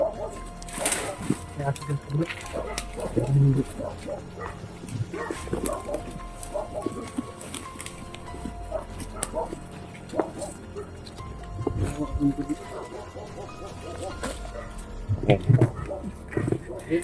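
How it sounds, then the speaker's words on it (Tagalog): A dog barks and yips intermittently in the background of an outdoor scene, with people talking over it and general bustle throughout. "Bakit may aso dyan?"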